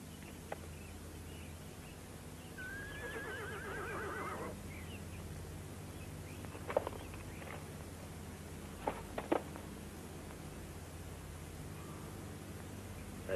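A horse whinnies once, fairly close, over a steady background hiss, followed by a few faint clip-clops and scattered soft knocks.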